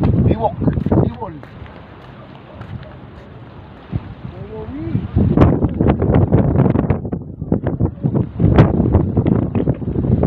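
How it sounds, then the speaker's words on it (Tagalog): Blustery wind buffets the microphone in rough gusts while someone talks loudly over it, the rumble swelling and easing. "Ang lakas ng hangin, lakas."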